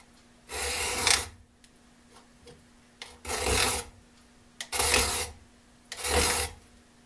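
A hand file rasps across the teeth of a carbide saw blade in four even strokes, each a loud, close scrape of about a second, separated by short quiet pauses.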